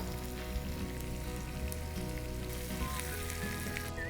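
Urad dal frying with green chilies and curry leaves in hot oil gives a steady, close sizzle and crackle with soft scattered pops, no voices over it.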